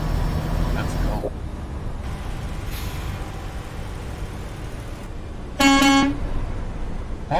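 In American Truck Simulator, the horn of a Western Star 5700XE truck gives one short, loud, steady honk near the end, rising over a low engine rumble while someone talks.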